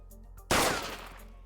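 A single sharp gunshot sound effect on a livestream, a sudden loud crack after a quiet start that decays over about a second.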